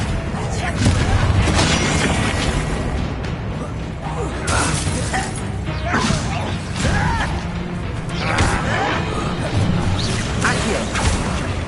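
Bombarda blasting spell in Hogwarts Legacy, crashing explosive impacts and shattering debris amid dense, loud combat effects, with voices speaking over the fight.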